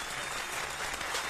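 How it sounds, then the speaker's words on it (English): Studio applause on a hip-hop radio show, a steady dense wash of clapping that fills the whole moment at moderate level with no voices over it. "I appreciate the applause"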